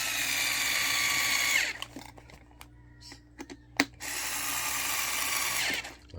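Screws are driven into the fuel pump housing of a Mk1 Audi TT Quattro during a DW65V pump install. Two long, close buzzing runs of a driver are separated by a quiet stretch of small clicks and taps.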